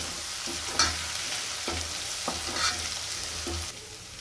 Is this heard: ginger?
yes